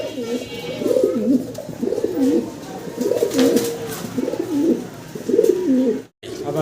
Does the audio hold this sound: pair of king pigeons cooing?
yes